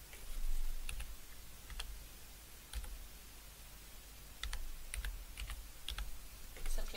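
Typing on a computer keyboard to enter a product code into an online catalogue search, with irregular bursts of close, crisp key clicks and short pauses between keystrokes, no talking.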